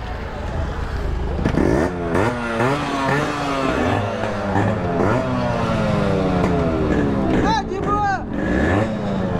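A Yamaha RX100 two-stroke motorcycle on a long road ride, its engine loud and close, revving up and down through repeated rising and falling sweeps with rushing wind noise throughout.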